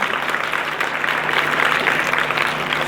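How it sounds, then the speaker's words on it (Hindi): Dense applause from a school audience at an inter college motivational class, steady and loud throughout after a student is thanked, with no voices rising above it. "बहुत बहुत धन्यवाद, जोरदार ताली से बच्चे के लिए।"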